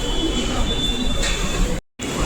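A metro train in Mumbai, on the way from Ghatkopar toward Saki Naka, gives off a steady close rumble with a faint high whine that cuts out briefly near the end.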